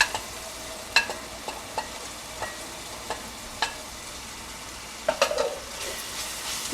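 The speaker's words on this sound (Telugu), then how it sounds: "ఇప్పుడు వేగేటప్పుడు కారం వేస్తున్నా" Chili powder goes into frying oil for a pesara punugula (moong dal fritter) pulusu curry, giving a faint, steady sizzle with scattered light spoon clicks as it is stirred, close by and without voices.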